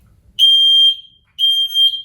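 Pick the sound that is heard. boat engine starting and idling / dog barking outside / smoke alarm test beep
smoke alarm test beep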